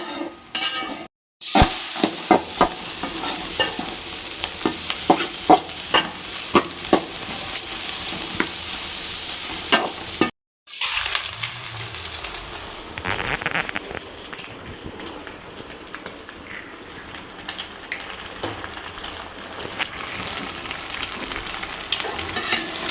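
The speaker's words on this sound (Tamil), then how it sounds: "இப்போ வெங்காயம் வதங்கிக்கிட்டே இருக்குது." Onions sauté in a pan for fried rice, a continuous close crackling sizzle with scattered pops and frequent stirring scrapes, cut off by two brief gaps, with no talking.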